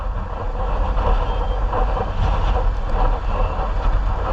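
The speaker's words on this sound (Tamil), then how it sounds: "காற்று சவுண்டு கண்டிப்பாக பலமாக இருக்க போது, கொஞ்சம் கொஞ்சமாக தான் குறையும்." Strong wind from Cyclone Nivar buffets the area in a city setting, a loud, constant low roar with gusty rumbling close to the microphone and no voices.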